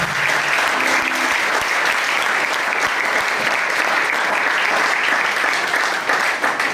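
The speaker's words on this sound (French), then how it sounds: "Est-ce qu'on peut encore applaudir pour le 25 logement?" Audience in a church at a Christmas evening gathering, applauding loudly and steadily throughout, dense clapping filling the room.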